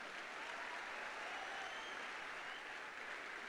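An audience at a business gathering claps in a steady, even roar, faint and somewhat distant, with no voices heard over it.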